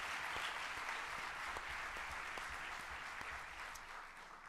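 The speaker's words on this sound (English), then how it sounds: "give a good round of applause for our graduates and diplomats who are sitting this side" Audience applause for graduates at the University of South Africa's 2025 spring graduation ceremony: steady, dense clapping from a large crowd, fairly distant and soft, slowly thinning toward the end.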